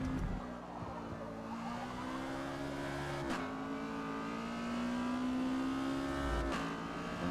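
An Exocet in Forza Motorsport racing B class at the Nürburgring, its engine droning steadily at high revs as it slides, with two sharp gear-shift breaks and pitch climbing between them; no talk.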